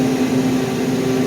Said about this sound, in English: the filter mist on this thing is pretty loud